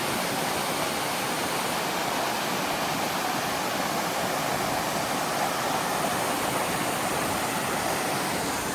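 A Welsh waterfall pours over rock in an unbroken, close, full roar of falling water, even and loud from start to finish with nothing else audible.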